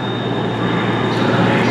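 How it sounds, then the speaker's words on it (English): Cross-country Super Voyager diesel train at Bournemouth station, a steady loud broadband rumble with a constant high whine that shifts near the end, close and continuous with no talk. "It's another Super Voyager."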